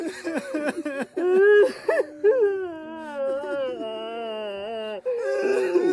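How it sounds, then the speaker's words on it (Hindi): A child wails and sobs in drawn-out, rising and falling cries, close and fairly loud, with shaky breaths between the sustained howls. "मुझे रोने की आवाज़ आने लगी,"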